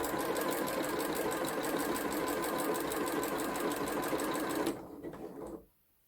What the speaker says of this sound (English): lower the needle, hold on to your threads and stitch forward.